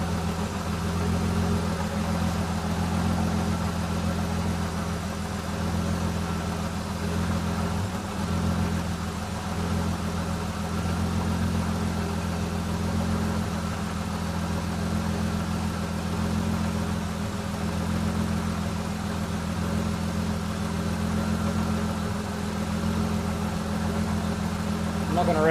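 A Holden VS with its L67 engine idles steadily after a top-end swap, a continuous low rumble with a strong even hum holding close and loud throughout, unrevved.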